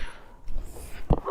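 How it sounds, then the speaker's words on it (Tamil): Dog barking out on a residential street, one sharp close bark near the end after faint background noise and quiet movement. "எங்கள் தெருவில் வேறு நாய் குலைச்சின்னுக்குது"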